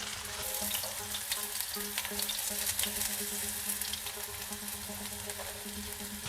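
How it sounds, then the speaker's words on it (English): Butter sizzles and fries in a hot wok, a steady bright crackle with occasional stirring scrapes, moderately quiet and continuous, no one speaking. "Okay, in a wok here, 2 tablespoons of butter."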